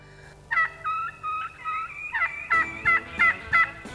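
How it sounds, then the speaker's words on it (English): Several wild turkeys gobble in quick succession in the Black Hills of South Dakota, loud rippling calls repeating in a steady rhythm, with no talking. "There were so many birds gobbling"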